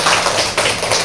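A short burst of applause from an audience at an Indonesian school presentation, dense overlapping claps, loud and close, lasting about a second with no talking over it.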